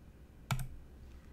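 A computer mouse gives a single crisp, close click at a desk, standing alone in an otherwise quiet room.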